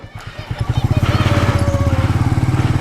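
A Royal Enfield Meteor 350 motorcycle engine thumps steadily at close range, its rapid rhythmic pulses revving up and holding a loud, even idle.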